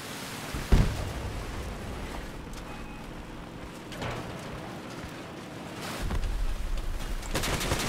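Gunfire in the Crossout vehicle combat game as players shoot down targets, heard as a steady dense roar of rapid shots with a heavy thump early on and a louder burst toward the end, with no voices.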